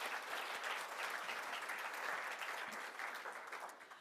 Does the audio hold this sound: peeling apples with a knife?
no